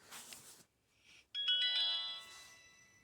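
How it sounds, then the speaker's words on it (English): A Nokia phone plays a short electronic ringtone: a brief noisy burst, a pause, then a bright run of clear synthesized tones sounding alone and fairly close. "I think the 1600 has this ringtone as well"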